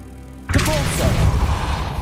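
A Depulso force spell cast in Hogwarts Legacy, with a sudden loud whooshing burst that sweeps in and rumbles briefly before trailing off.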